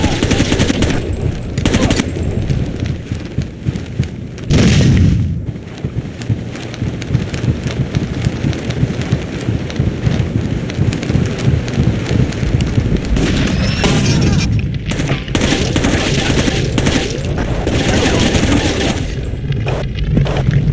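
Gunfire in Rainbow Six 3, dense rattling automatic bursts and loud cracks over a constant noisy background, with heavier bursts near the start, middle and end.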